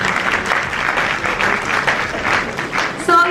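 A conference audience at a university entrepreneurship and innovation event breaks into steady applause, with loud rhythmic clapping throughout and a brief tonal sound cutting in at the very end.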